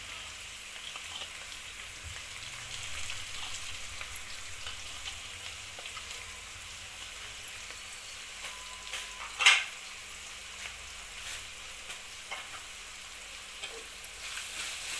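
Green chili paste and onions sizzle steadily in a pan, a continuous even crackle throughout with one sharper pop midway.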